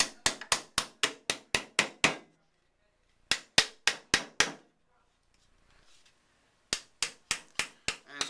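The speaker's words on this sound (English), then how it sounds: "Just hammer that on down." A hammer strikes a polymer quad rail clip onto an AK-47 in three bursts of rapid, evenly spaced sharp blows, about eight in each run, close and loud, with brief quiet gaps between them.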